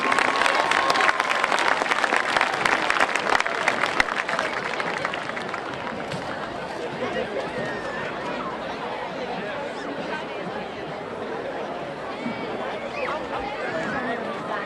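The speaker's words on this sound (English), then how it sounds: "Let's give him a round of applause, ladies and gentlemen" A high school football stadium crowd applauds the junior prince at homecoming, loud clapping and cheering at first that settles into a lower, continuous crowd murmur with voices mixed in.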